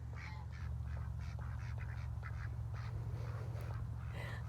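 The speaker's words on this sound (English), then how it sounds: "I got distracted by ducks." Ducks quack in a rapid, irregular chorus on a farm. The calls are moderately close and sit over a steady low rumble of background noise.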